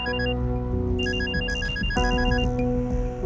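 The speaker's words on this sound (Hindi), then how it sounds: "एक बार फोन करके पूछे तो सही" A telephone rings while a call is being placed, giving loud, close, repeated electronic ringtone pulses with no talking over them.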